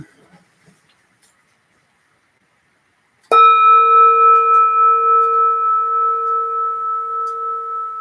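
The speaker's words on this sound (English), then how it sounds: "I'll ring the bell." A meditation bell is struck once after a quiet stretch, giving a clear bright ring with a sharp attack and a long, slowly fading sustain of pure ringing tones.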